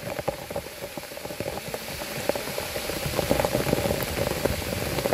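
Rainwater runs over a forest trail after a downpour, a steady broadband rush and patter that swells slightly louder toward the end, close and continuous with no talking.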